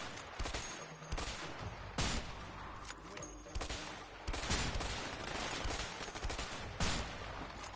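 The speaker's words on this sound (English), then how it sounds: "I'll use the sniper. The sniper rifle." Sniper rifle fire in the co-op game A Way Out: a string of sharp, loud gunshots at irregular intervals, mixed with dense battle gunfire throughout, with no talking.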